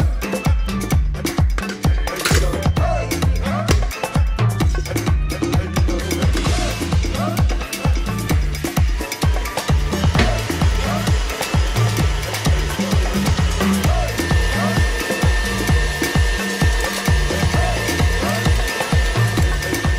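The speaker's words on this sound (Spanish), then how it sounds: "Con la varilla, cremamos la mantequilla con el azúcar." A whisk creams butter with sugar for cookie dough, making a steady, rhythmic scraping and beating that repeats quickly and evenly for about twenty seconds, close and fairly loud.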